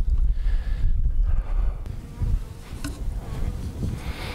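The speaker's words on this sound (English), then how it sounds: "He's got some bees here he's going to manage." Bees kept by a beekeeper at a fence-building site drone steadily, a faint insect buzz through wind noise and rustling.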